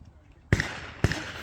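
At a clay shooting ground in January, two sharp, loud shotgun reports sound about half a second apart as a shooter fires at a clay target, each one followed by a short ringing decay.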